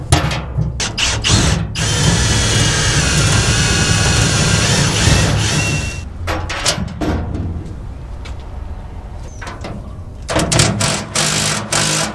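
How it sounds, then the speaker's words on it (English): A power drill whirs loudly in long continuous runs, stopping briefly between holes with short clicks and clatter in the gaps, drilling holes in the side of a heavy-duty 14,000 lb trailer during a rebuild. "we'll drill some holes here on the side"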